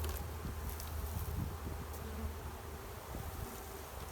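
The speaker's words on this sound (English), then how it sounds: "I got the feeling these bees are not going to be happy." Honeybees swarm around an opened hive during spring preparation, their steady dense buzzing close and continuous throughout, with no speech.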